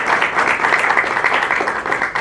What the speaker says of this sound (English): Why don't we have one more round of applause for both of our wonderful speakers.